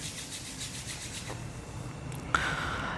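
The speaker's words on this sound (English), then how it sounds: "rubbing the palms gently together now" Two palms rub gently together during a quiet kriya breathing practice, giving a soft, faint, continuous swishing friction. A brief click comes near the end, and no one speaks.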